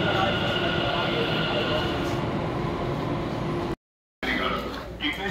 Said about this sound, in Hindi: अभी आ गया मेट्रो